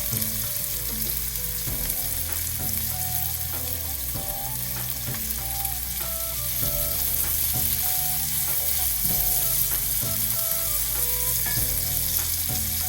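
A loud, constant sizzle of onions frying in a pan, with periodic scrapes and knocks of a utensil stirring them.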